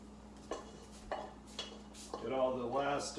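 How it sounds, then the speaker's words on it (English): Gnocchi bake mixture scraped and tipped into a casserole dish, with a few sharp utensil clinks against the dish followed by a longer stretch of scraping and stirring sounds, close by. "we're just going to go ahead and put this into the casserole dish"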